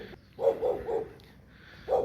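A pet dog named Monalisa barks at her owner approaching from a distance in a home setting, a run of three sharp barks followed by a pause and one more, moderately close and clear with no talking over it.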